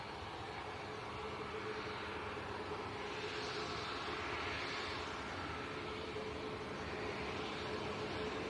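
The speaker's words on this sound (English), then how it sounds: "Looks like this Ryanair's going to get out before the next inbound." A Ryanair airliner departs Leeds Bradford Airport with a steady, distant jet roar that swells gently, heard alone.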